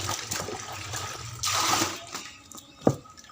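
Clothes are pushed into water mixed with detergent powder, making close sloshing and swishing with a louder surge of water midway and a splash near the end.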